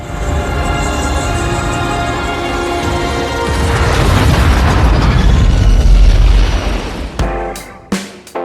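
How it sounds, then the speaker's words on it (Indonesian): A loud film explosion, as a character blows himself up, swells from a rumbling roar into a heavy blast over several seconds, then breaks into scattered crashes and pops of debris. "Ray pun meledakkan dirinya bersama Dr. Harding di tempat tersebut."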